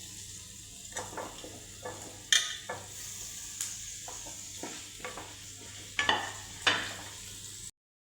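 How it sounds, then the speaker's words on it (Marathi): Chopped beetroot and carrot sizzling softly in a pan, punctuated by intermittent scraping and stirring clinks of a spatula. "आपल्याला कट केलेले बीट आणि गाजर टाकायचे याच्यामध्ये"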